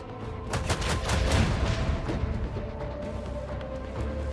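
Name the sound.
ship side gun firing in video game Rogue Trader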